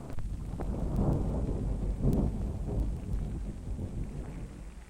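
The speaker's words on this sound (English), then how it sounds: "Gee, listen to that thunder." Deep rolling thunder rumbles continuously with faint rain and a few sharp crackles, sounding moderately close.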